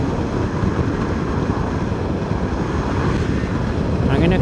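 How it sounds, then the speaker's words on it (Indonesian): Strong wind buffets the microphone continuously while riding an electric motorbike past rice fields and rivers in central Java. The broadband rush is loud and steady throughout, with no clear speech. "Anginnya kenceng banget."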